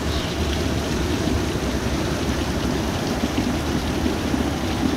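Heavy rain pours on a house whose leaf-clogged gutters are overflowing, a dense, loud, continuous wash of rain with no talking.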